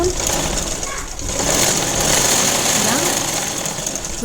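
A sewing machine stitches thick cloth for a plain blouse, humming steadily and close throughout, while a person talks over it.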